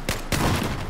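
Battlefield 4 gunfire in a squad firefight: two sharp, loud shots in quick succession within a second, ringing into a noisy battlefield wash.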